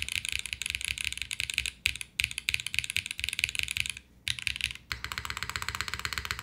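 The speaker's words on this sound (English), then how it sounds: "The long pole spacebar sounds great." Fast, crisp typing on a KBDFan KBD8X mechanical keyboard with a long pole spacebar, dense clacking keystrokes in bursts with a few short pauses, close and alone without talk.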